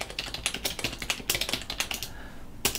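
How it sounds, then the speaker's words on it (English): Someone types on a computer keyboard while setting up a user account during an ArcoLinux install. The keystrokes are close, rapid and uneven, with a short pause near the end before one last burst. "here I start again by typing a user account."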